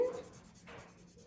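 Soft, quick scratchy strokes of a crayon shading on paper, close and quiet, a brief burst of rubbing in a still room.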